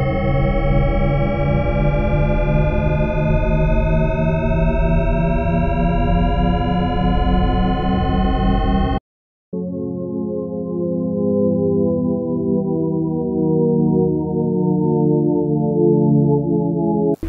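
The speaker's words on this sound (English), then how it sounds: "Shepard tone is basically a sound consisting of superposition of sine waves separated by octaves" A Shepard tone auditory illusion built from octave-spaced sine waves that seem to rise endlessly in pitch. It plays loud and sustained with stacked tones, cuts out briefly near the middle, then resumes as a second, lower-pitched stretch.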